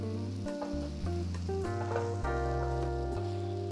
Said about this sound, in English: we're just deglazing the pan to get that